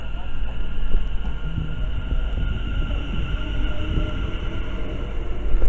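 A Class 730 electric multiple unit pulls away from the platform at Cheddington station, running empty, a steady low rumble and rail hum that persists throughout at moderate loudness with faint background noise.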